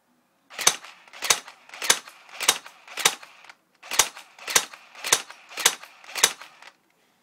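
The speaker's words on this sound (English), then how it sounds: "First, a semi-automatic. I'm going to shoot at that birdhouse just there." Ten sharp gunshots from an MK-74U rifle fired semi-automatic outdoors at a birdhouse, spaced evenly in two groups of five with a short pause between, loud and close.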